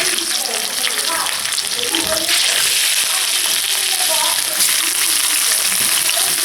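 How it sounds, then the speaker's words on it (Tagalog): Pandan-wrapped chicken half-cooks in hot oil, a loud, dense, steady frying hiss with crackling bursts throughout, close and continuous. "So, i-fry natin half-cook yung ating chicken."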